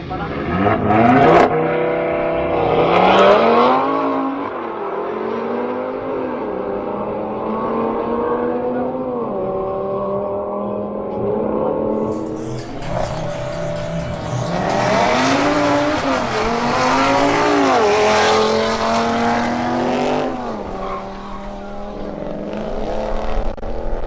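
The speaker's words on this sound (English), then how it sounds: "Next, Pedro Mogollon in his Audi RS3 makes a new attempt at qualifying." An Audi RS3 accelerates hard on a qualifying run at a drag event, its engine climbing through repeated rising rev sweeps and gear changes, loud and close, with a commentator speaking over parts of it.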